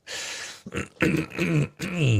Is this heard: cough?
yes